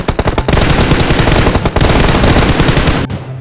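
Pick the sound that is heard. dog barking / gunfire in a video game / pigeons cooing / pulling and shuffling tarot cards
gunfire in a video game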